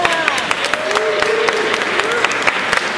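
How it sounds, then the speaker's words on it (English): Audience applause at a launch party in Canada, brisk and steady, with individual sharp claps standing out and a few cheering voices rising over the crowd. "Please round of applause for Scott."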